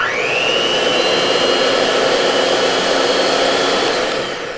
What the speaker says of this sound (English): It's the most powerful cake mixer I've ever had.